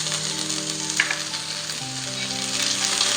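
Garlic and ginger sizzle steadily in a hot pan of oil, where pepper and cloves were roasted just before, for a paneer masala; the frying is close and continuous, with a faint tonal hum underneath.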